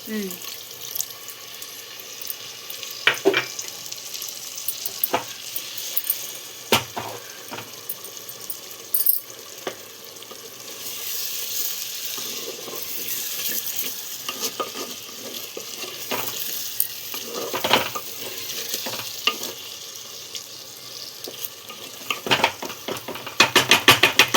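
Water is poured into a pan of frying brinjal curry, giving a continuous watery hiss and sizzle with scattered clinks and stirring clatter, and a voice speaks at times.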